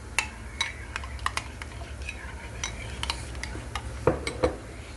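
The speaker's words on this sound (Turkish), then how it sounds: "Sarımsağı da rendeledikten sonra iyice karıştırıyorum" Strained yogurt mixed with freshly grated garlic is stirred in a bowl, giving a run of light scraping taps and clinks of utensil against dish, with a couple of louder knocks near the end over a low background hum.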